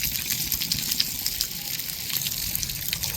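Water pours and splashes steadily onto newly built house construction to cure it, a continuous broadband gushing and trickling hiss that runs unbroken throughout at moderate loudness.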